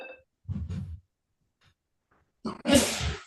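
A single sneeze inside a radio studio, a sharp loud burst near the end after a short breathy sound and quiet pause, with no talk.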